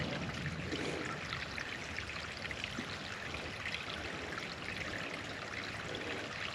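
A small creek in Lackawanna State Park flows under a little footbridge, giving a steady, close rushing and trickling wash of water with no voices.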